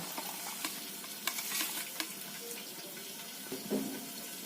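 Potatoes fry in hot oil for a mutton curry, with a faint sizzle under light stirring and scraping clicks; the cooking sounds are quiet and close, with a few sharper taps and no talking.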